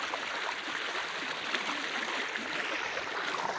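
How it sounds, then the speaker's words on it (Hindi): Water rushing continuously through a water ride, a soft, steady, even hiss of flowing water heard alone at low volume with no break or change. "आ छे पानी चालू, देखो"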